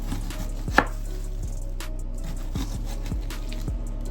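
A knife slicing an onion thinly on a cutting board for onion soup, a series of crisp, evenly spaced chops close by, with no talking.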